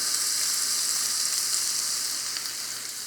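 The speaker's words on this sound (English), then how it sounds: "I've just been frying the chicken and the veggies for a bit" Chicken and vegetables fry in a pan with a steady, soft, even sizzle close by, no voices over it.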